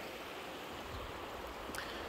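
River current at Kibler Valley rushes past rocks, a steady broadband wash of flowing water heard alone and fairly even throughout, with no voices.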